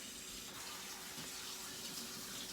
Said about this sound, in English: I'm really gonna rinse these well.